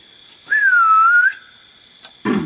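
A person whistles one sustained, gently wavering note outdoors on a rural road at night for just under a second, followed by quiet and a short burst of other noise.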